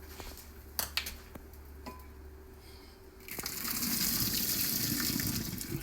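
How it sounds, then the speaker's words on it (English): Cooked vegetables drained in a kitchen sink, water gushing and splashing steadily for several seconds after a few quieter clinks and taps, fairly close. "Vegetables are cooked. We're gonna drain them."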